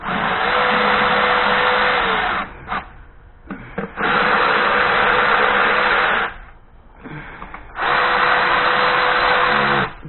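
A power tool runs down bolts corner to corner on a boosted F23 Honda Accord, three long whirring bursts of about two seconds each separated by short pauses with brief blips between, close and steady.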